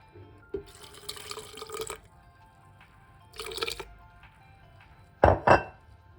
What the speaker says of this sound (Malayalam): ഇതിൻ്റെ കുറച്ച് ജ്യൂസും കൂടെ ഒഴിക്കാം നമുക്ക്